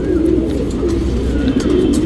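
A breeding pigeon coos close by in low, rolling, repeated hoots, steady and continuous with no talking.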